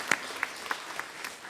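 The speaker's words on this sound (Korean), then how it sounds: "우리 박수." Light applause from a church congregation during a Sunday service, a handful of distinct, fairly sharp claps over a soft, steady wash of clapping.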